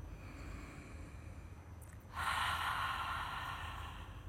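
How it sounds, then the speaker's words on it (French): Ujjayi yoga breathing, a soft nasal inhale followed by a louder, breathy exhale through the mouth shaped like an open "ah", close and steady with no talking. "on va juste ici inspirer par le nez et on va expirer par la bouche comme si on voulait faire le son A"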